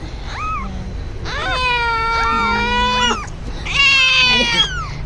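A newborn ginger kitten meows in a string of high, wavering cries, close and fairly loud, with a few pauses between calls and a person speaking softly in the background.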